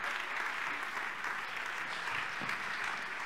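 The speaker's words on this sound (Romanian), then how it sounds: "Doamnelor și domnilor, aplauze pentru Travante Williams!" Sustained applause from a basketball crowd at a team presentation fills the space, even and continuous, with faint voices mixed in.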